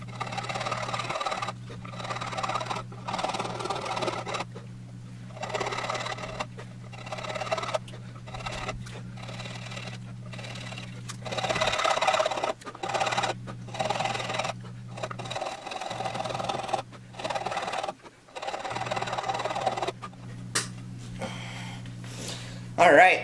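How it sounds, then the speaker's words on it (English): A rasp shapes the headstock transition of a carved-top Telecaster-style guitar neck with repeated rhythmic filing strokes, each a scratchy burst over a steady low hum. "I feel a lot more comfortable doing it with the rasp, to be honest."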